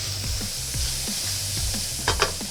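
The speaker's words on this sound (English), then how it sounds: "It's time to add the Calabrian chili paste to it, just like that. And we gotta give it a good stir." Calabrian chili paste is stirred into shrimp and orzo sizzling in a pan, with a steady sizzle under repeated scraping strokes of a spoon and a few louder clinks near the end, close and clear with no talking.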